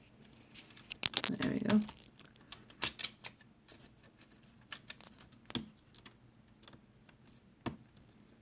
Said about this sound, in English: Just attach gently the keyboard.